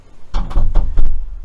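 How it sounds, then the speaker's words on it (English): A workshop door is pushed shut, giving a cluster of loud close wooden knocks and rattles with a heavy low thud over about a second. "let me shut this door"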